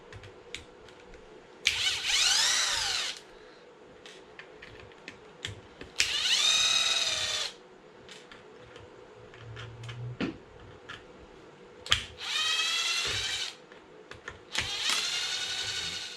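A power gun drives bolts into the rear of an Arrma Felony RC car being built for drag racing, four separate whirring bursts each lasting about a second, close up, separated by quiet handling noises.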